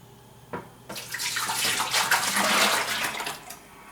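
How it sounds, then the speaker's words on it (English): Thick eggnog dairy mixture poured from a big pot into a fermentation bucket, a steady gushing liquid pour that starts after a short knock and runs loud and close for several seconds before tapering. "I'm going to move this big dairy mixture over to my mixing bucket here"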